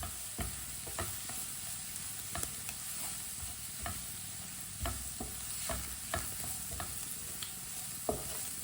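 Vegetables with turmeric powder are stirred in a frying pan, a faint continuous sizzle punctuated by repeated scraping and tapping strokes of a spoon at an uneven rhythm, with no speech.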